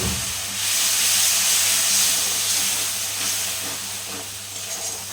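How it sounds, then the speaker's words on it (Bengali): Water splashed onto spice paste frying in a wok for ghugni with chickpeas and potatoes, giving a loud, steady steam hiss that swells after half a second and stays strong throughout, with no talking. "এইখানে আমি একটু জল দিচ্ছি, মশলাটা যেন লেগে না যায় কড়াতে"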